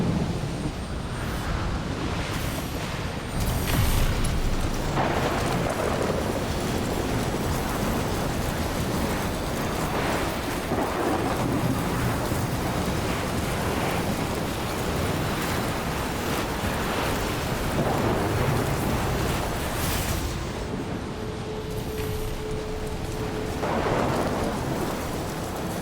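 Steady heavy rain and rolling thunder fill a storm in the video game Death Stranding, with loud dense hiss throughout and several deep rumbles rising and fading, and no speech.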